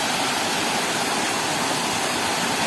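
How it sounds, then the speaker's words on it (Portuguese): A strong waterfall in a natural rocky spot in the Brazilian backcountry, reduced after days without heavy rain, makes a steady, loud, close rush of falling water with no break. "Fica uma cascata incrível"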